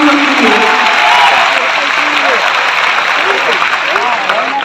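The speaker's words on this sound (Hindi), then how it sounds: "तालियां जोरदार" Loud applause from a large audience at a company meeting, a dense steady wash of clapping throughout, with voices audible through it.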